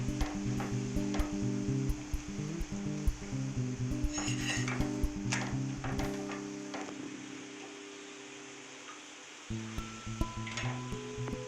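Laccha paratha sizzles steadily in a pan over a medium flame, a continuous frying hiss with occasional clinks of a utensil against the pan and no voices.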